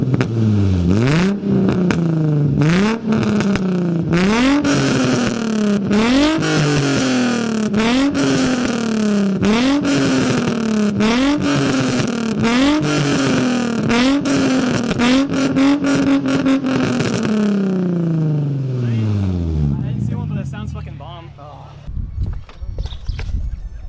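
A Nissan 350Z engine with test pipes, revved repeatedly and hard in a steady rhythm of rising and falling pitch, loud and close, then dropping to crackling pops and bangs near the end.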